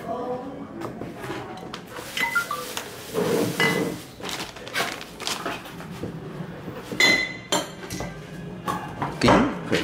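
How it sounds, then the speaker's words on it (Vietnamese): Pieces of agarwood incense are dropped into a glass jar, giving a busy run of close clinks, knocks and rattles of wood against glass that repeat throughout, with background handling noise and no clear talk. "Thủy tinh bỏ trầm, bỏ trầm vào thủy tinh."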